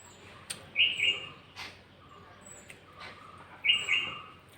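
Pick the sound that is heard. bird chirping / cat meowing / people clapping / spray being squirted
bird chirping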